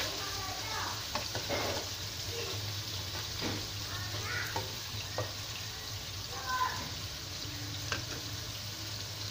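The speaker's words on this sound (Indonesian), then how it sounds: "Okay, kita letak bawang putih dengan bawang." Garlic and onion fry in a wok, giving a steady background sizzle with scattered stir and scrape clicks throughout, a constant low hum underneath and no talk over it.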